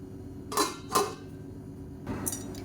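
A lid is set onto a cooking pot while mutton biryani is being made: two quick metallic clanks close together, then a softer clatter a second later, all near and with no talk.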